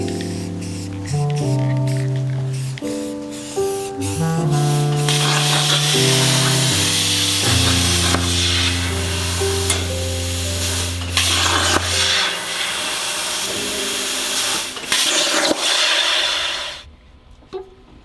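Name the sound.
spray painting plastic interior trim black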